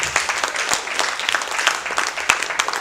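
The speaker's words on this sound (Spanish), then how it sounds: "Un fuerte aplauso." A church congregation breaks into steady applause after a call to praise during a sermon, dense overlapping claps filling the room at a fairly even level with no talk.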